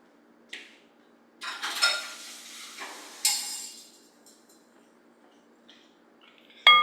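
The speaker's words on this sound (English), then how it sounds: "and then we're just gonna whisk that together." Sauce of ketchup, Dijon, grated garlic, grated onion and pickle juice is stirred in a bowl: a few short, sparse clinks and scrapes with quiet gaps between them, moderately close.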